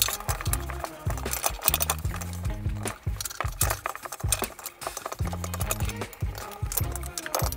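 A soft cloth with WD-40 is rubbed over an old motorcycle exhaust, producing brisk irregular rubbing strokes mixed with light knocks and clinks, close and fairly loud.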